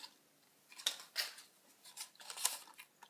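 Scissors snip through the paper stem of an origami flower, several quiet, crisp cuts spaced irregularly in a silent room.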